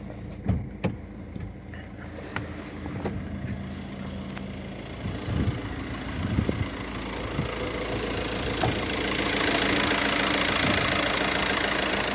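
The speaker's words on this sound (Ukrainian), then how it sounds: "Відкрию капот, слухаємо, як працює." A 2009 Volkswagen Touran 2.0 diesel engine idles steadily under an open hood with a low, even rumble, growing slightly louder and brighter toward the end, with a few faint clicks and knocks.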